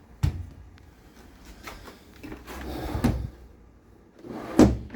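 Kitchen drawers in a 2018 Forest River Salem Grand Villa Classic RV slide open and shut, giving several close wooden knocks and rolling thumps at uneven intervals, with the loudest bump near the end.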